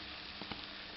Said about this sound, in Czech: Tady mám rozehřátý omastek na pánvi.